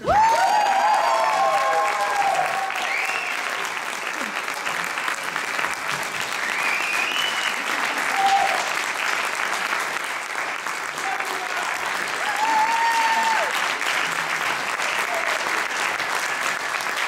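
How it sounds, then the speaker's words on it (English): An audience at a concert of selected movements from Coyote Builds North America applauds steadily and loudly for departing musicians, with scattered whoops and cheers rising through the sustained clapping. "So this semester, why don't we give a big round of applause to Aaron Taub and Adam Rand for their years."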